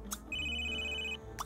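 A phone ringtone from The Sims 3 video game plays a single sustained electronic tone for about a second, clear and close, with brief clicks just before and after.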